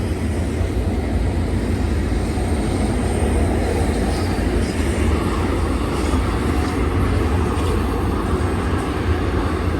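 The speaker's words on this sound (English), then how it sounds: "This is a Z train, excuse me." A BNSF intermodal Z freight train passes at Cajon Summit, its wheels and cars producing a loud, steady, broadband rumble that continues unbroken throughout.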